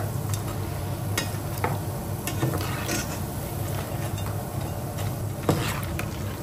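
Cheese snacks frying in bubbling oil, a steady crackling hiss with scattered pops and the odd utensil tap, close and continuous throughout.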